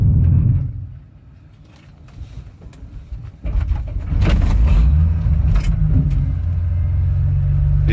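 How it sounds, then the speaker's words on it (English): Car engine catching during a reverse bump start, a low rumble dipping quietly before the motor fires and settles into a steady, loud idle close by. "That's a reverse action bump start."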